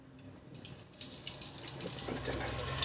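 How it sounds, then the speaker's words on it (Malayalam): Coconut oil poured into a heated pot on a stove while making Kerala-style crab roast: a steady, close pouring wash that starts after a brief quiet moment and continues to the end, with no talking. "ഇനി നമുക്ക് ഇതിലേക്ക് എണ്ണ ഒഴിക്കാം"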